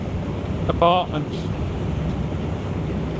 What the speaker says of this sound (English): It's that windy with us going so fast now